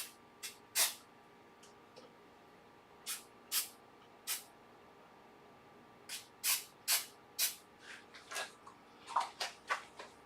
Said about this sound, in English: Give it a squirt with the accelerator.